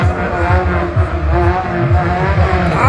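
A drift car's engine revs hard during an RDS West drift race, a loud continuous roar with repeated rising and falling throttle surges, close by and dominating.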